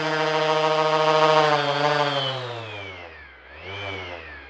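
A Max XT random orbital palm sander with a 6-inch hook-and-loop pad runs with a loud, buzzing motor whine that rises and falls in pitch as the variable-speed trigger changes its speed.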